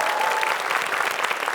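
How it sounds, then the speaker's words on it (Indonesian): Brief burst of steady studio audience applause on a comedy talk show, even and full throughout. "Boleh kasih tepuk tangan dulu?"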